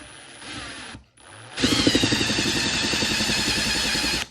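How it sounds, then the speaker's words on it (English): A power drill whirs briefly, pauses, then runs steadily at high speed in reverse with a rhythmic chatter as it bites into wood, close by. "I'm gonna start this off reverse drilling."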